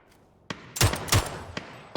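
Gunfire in the battle-royale video game PUBG during a tournament match: several sharp, loud shots in quick succession, with a couple of heavier bursts and scattered single cracks.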